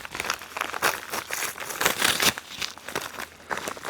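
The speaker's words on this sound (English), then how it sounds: "get that packaging out of the way" Packaging being pulled off and crumpled while unboxing a Fly Viper GTS R drone order, loud close crinkling and tearing bursts in irregular rapid succession for several seconds, no voices.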